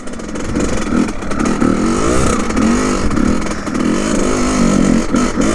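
A Kawasaki KX100 dirt bike engine runs loud and close, its revs rising and falling unevenly as it bogs and struggles rather than revving cleanly, with a raspy two-stroke drone throughout.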